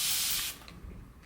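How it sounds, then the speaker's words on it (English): A trigger spray bottle of water, used for detailing wipe-downs, lets off one sharp, close hiss of mist lasting about half a second, then cuts off into quiet room noise with a small clunk. "I've got these spray bottles for water or whatever."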